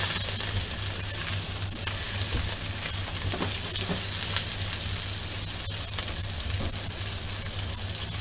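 Greenland halibut steaks fry in a pan with a continuous, close sizzle and crackle that holds steady for about eight seconds, with no talking over it.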